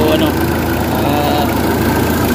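A car engine that had run out of engine oil idles steadily at close range, a continuous rumble with a person talking over it.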